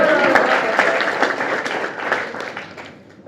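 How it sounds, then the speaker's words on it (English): Audience applause at a Google community summit in Kigali, Rwanda, a dense burst of clapping that gradually fades over a few seconds. "applause."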